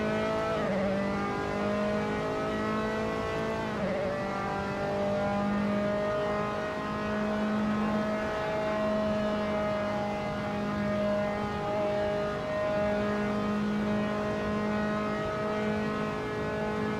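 An F3 race car engine at Spa in a racing video game drones steadily at high revs throughout, with pitch shifts as it changes gear and no talk over it.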